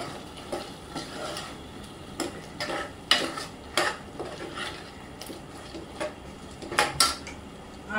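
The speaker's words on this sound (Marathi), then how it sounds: "चांगले मिक्स करून घेऊ." A spoon scrapes and clanks against a pan while Malvani mutton curry with cashews is stirred, irregular metallic knocks over a soft background sizzle, close by and with no talk.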